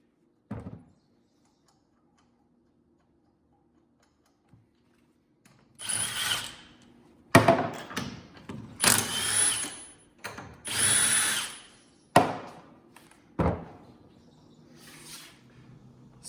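A Milwaukee 1/2 inch cordless impact wrench, fully charged on setting 3, loosens a lug nut torqued to 100 foot-pounds: a faint click, then several loud close hammering bursts of varying length, ending in a final short burst.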